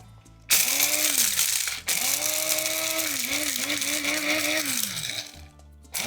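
A small hand mill grinds Lebanese cloves in bursts, a loud whirring, rising-and-falling motor-like drone that starts after a quiet moment, pauses briefly, then runs steadily for several seconds before stopping.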